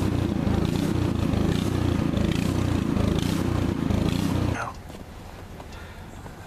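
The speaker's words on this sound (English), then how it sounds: "what we're gonna do is shut the snowblower off." A snowblower engine runs loud and steady, clearing snow in a 2013 blizzard, then cuts off abruptly partway through, leaving a quieter low rumble behind.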